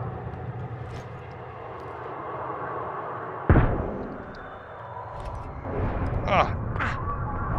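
Grenade explosion in the video game Stalker 2: one sharp, loud blast with a low rumbling tail over continuous game ambience, followed by a few fainter impact sounds.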